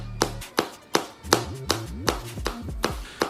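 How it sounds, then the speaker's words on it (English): A booty-clapping sound effect: roughly nine sharp, fleshy slaps in a steady rhythm, close and crisp, with no voices. "booty clapping sounds"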